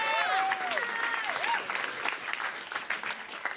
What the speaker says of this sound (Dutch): applaus voor Diana